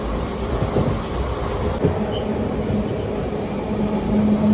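An old-engine passenger train running at high speed, near 102 km/h, heard from inside as a continuous low rumble and rattle with a few brief clanks, steady and close.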